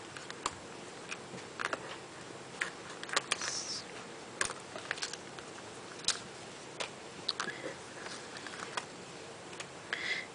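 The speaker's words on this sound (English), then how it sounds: "I love the Eclipse machine because it does such a good job with cutting them off" An Eclipse die-cutting machine cutting card pieces, giving a run of sharp, irregular close ticks and clicks over a low steady hum, with no talk.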